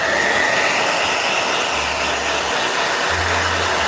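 Blow dryer running with a steady, loud, broadband rushing hiss throughout, plus a low motor hum that rises and falls.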